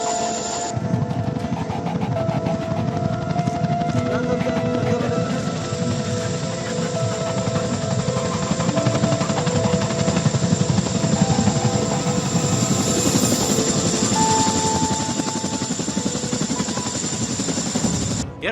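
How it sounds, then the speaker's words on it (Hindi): Rafale, Jaguar and MiG-29 fighter jets at an Indian Air Force air show at an air force station, a steady loud roar of engines throughout with no talk. "एयरफोर्स स्टेशन पर लड़ाकू विमान राफेल, जगुआर और मिग-29 ने अपना दमखम दिखाया।"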